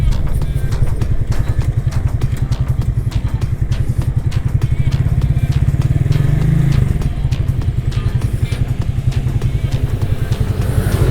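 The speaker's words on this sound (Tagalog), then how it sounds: "Pero malakas yung motor mga brad Hindi ko natatanggi." An FKM Agimat 175 motorcycle engine runs steadily and loud with a dense rapid exhaust pulse and mechanical clatter, holding a constant drone for about eleven seconds with no voice on top.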